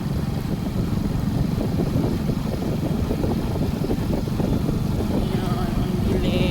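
Motorcycle engine with a broken headlight, ridden at night on a rural road near town, a steady low drone and rumble with wind noise running throughout.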